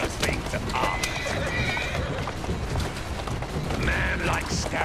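A horse in Assassin's Creed Syndicate clops and neighs in busy game audio, with hoofbeats, whinnies and mechanical creaks layered close together over a dense, loud background.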